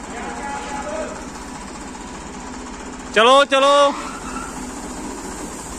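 A tractor engine runs steadily at a low throb, pulling a chained straw clamp, while someone shouts loudly over it for about a second partway through.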